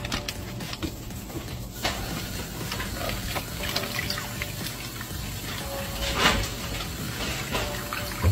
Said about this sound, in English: Here I'm adding water to the acid to dilute it.